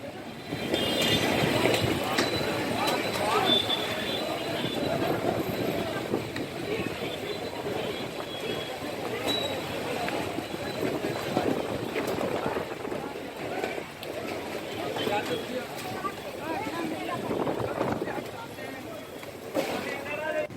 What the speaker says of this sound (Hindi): तेज हवाओं के साथ बारिश हो रही है।